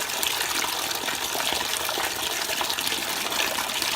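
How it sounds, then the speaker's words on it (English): Straight hot water gushes from the tap into a bathtub, a loud, steady, close splashing rush that continues without pause. "we're going to fill it up with some hot water"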